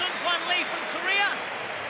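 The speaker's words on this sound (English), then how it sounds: "there's a rapturous applause here, justifiably so, for this young warrior, Sung Hwan Lee from Korea" Crowd applause at a K-1 kickboxing event in Madrid, a steady wash of clapping and cheering from a large arena audience under an excited commentator's voice.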